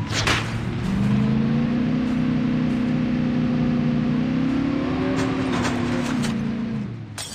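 ATV engine in a Goliath-style multiplayer video game, a sustained droning rev that climbs gradually in pitch and holds steady for several seconds before easing off, loud and close with a busy game backdrop.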